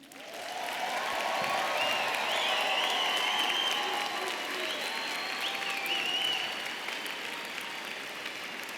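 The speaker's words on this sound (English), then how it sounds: "Can we have one more round of applause?" Sustained applause with whoops and cheering voices for graduates at a spring social work commencement ceremony, rising quickly and holding steady throughout.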